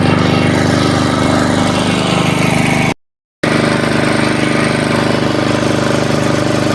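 At a construction site during lockdown work, a drill runs loud and steady with a rough, droning motor roar. The noise cuts out briefly partway through, then resumes unchanged.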